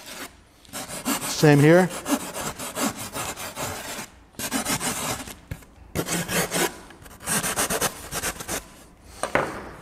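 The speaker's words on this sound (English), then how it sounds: "dance with your rasp over the material" A rasp works over a wooden heart in repeated scraping strokes, rough and close with short gaps between passes; a voice briefly speaks and a short tonal chirp sounds early on.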